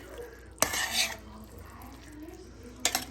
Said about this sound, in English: stir everything together and cook for another 5 minutes